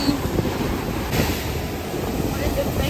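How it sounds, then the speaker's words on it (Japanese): Ocean surf rolls at Itoshima beach as a steady, loud wash of broadband noise, roughened by wind buffeting the microphone, with no pause throughout. "この赤い波がいいね"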